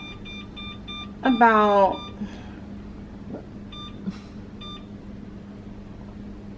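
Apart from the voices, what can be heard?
kitchen timer beeping while being set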